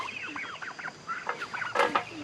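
Young guinea fowl on a farm give a string of short, rhythmic chattering calls close by, followed by a louder, harsher burst near the end.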